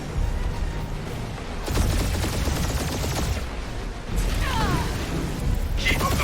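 A sustained barrage of rapid gunfire and blasts in Guardians of the Galaxy combat, loud and continuous with dense bursts, a brief lull midway and energetic zapping effects.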